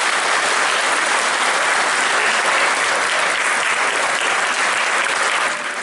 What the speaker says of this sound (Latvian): Mēs sveicam Dorītu un pateicamies jums ar sirsnīgiem aplausiem.